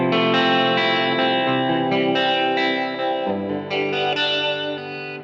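Clean electric guitar through a Line 6 Pod Go modeller patch with reverb on, strummed chords ringing out with a lush wet tail, loud and alone with no talk.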